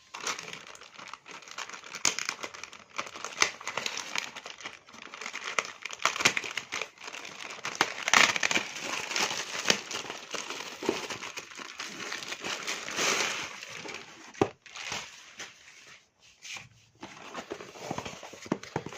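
Packaging from a delivered parcel containing a Nutella plate crinkles and rustles close by as it is unwrapped and handled, in continuous uneven bursts with sharper crackles and a few knocks, with no talking.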